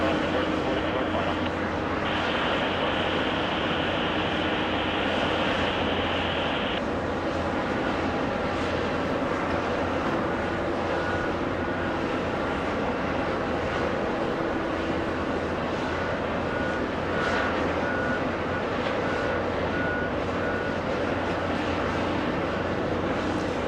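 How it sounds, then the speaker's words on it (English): JetBlue airliner arriving on runway 4 left at JFK, a sustained broadband jet rush with a brief high whine early on, steady and fairly distant throughout. "JetBlue 2222 flying in from Kansas City and arrival on 4 left."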